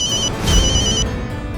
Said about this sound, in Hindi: जरूर माया का ही होगा। मैं ही फोन ही बंद कर देता हूँ।